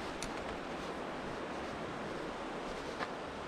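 Water rushes at the Moraduccio waterfall in Italy, a steady, broad roar that fills the whole stretch with no breaks and no voices.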